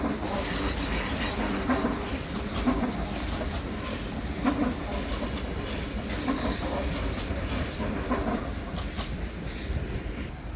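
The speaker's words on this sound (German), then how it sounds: "Einfahrt eines ÖB Flirts aus Richtung Allgäu" An ÖBB Flirt regional train coming into Munich main station from the Allgäu line, a steady loud rumble of wheels and rails with faint squealing and clatter throughout, no talk.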